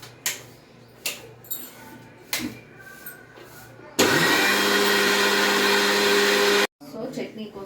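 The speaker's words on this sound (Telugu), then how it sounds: "సో ఇదంతా మిక్సీ పట్టుకోవాలి" A kitchen mixer grinder whirs loudly for a few seconds, blending fried masala with curd and ketchup, after light clinks and taps of setup, then stops abruptly.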